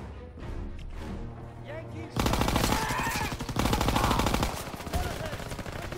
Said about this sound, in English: they're shooting me in the face